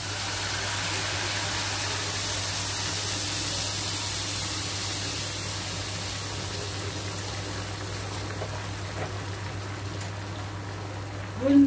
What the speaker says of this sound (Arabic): انزل عليه ميه كده مغليه